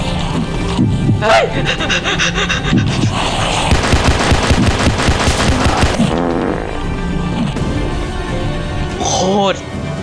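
Gunfire in the Roblox game Paracam: bursts of rapid automatic shots rattle loudly, with a dense volley in the middle, while players talk excitedly over the shooting.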